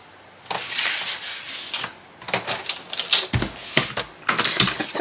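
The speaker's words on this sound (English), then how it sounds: "so I'm going to cut these down to 3/4 of an inch." Paper strips being trimmed down for covering envelopes in a mini album craft project, heard as a series of close, dry rasping and scraping bursts in irregular bunches with short pauses between, no voice present.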